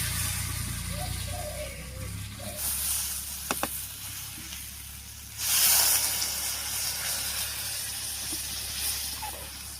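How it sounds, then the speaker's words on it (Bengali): Water poured into a pan of frying spices for a prawn curry sets off a steady hiss and sizzle, with a brief louder surge midway, close and alone without talk. "এবারে ঝোলের জন্য জল দেবো।"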